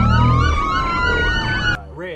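Ambulance siren sound effect, loud wailing tones sweeping up and down for under two seconds before cutting off abruptly to a brief fainter echo of the wail.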